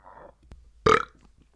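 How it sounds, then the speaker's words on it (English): A single loud, throaty burp bursts out close by, preceded by a brief murmur and a sharp tap. "Excuse me, man. I've been burping this whole card."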